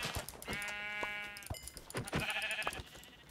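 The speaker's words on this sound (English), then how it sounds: "oh, wow, look, 3 sheep" Sheep in the Minecraft video game bleat several times in quick succession, short wavering calls at moderate distance with quiet gaps between them.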